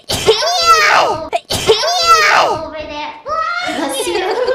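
A voice sneezes twice in quick succession, both loud and close, and then says a word.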